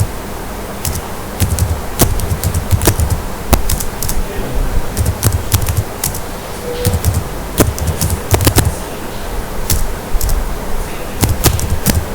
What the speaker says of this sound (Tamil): இப்போ அதில் டைப் பண்ணிப்போம்